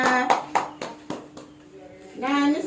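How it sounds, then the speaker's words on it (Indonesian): A small group in an Indonesian classroom training session claps for a presenting group, a few scattered sharp claps spread over a couple of seconds, with voices speaking around them. "Tepuk tangan untuk kelompok ketiga."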